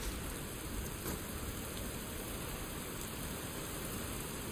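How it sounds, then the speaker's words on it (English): Modded rain in the game Skyrim makes a faint, steady hiss of falling drops, an even wash of noise with no talk over it. "I think this is like modded rain. Improved weather rain."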